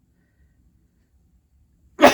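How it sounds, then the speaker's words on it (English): A single sharp sneeze bursts out at the very end after near silence, loud and close, while someone glues the tires of a radio-controlled car. "I'm going to sneeze"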